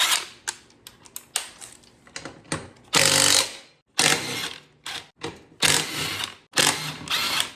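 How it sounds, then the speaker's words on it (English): An impact gun with a 17mm socket rattles off the wheel nuts on a Kawasaki ATV, firing in short, loud bursts of hammering separated by brief pauses and quieter clicks. "So you'll use a 17mm with an impact gun."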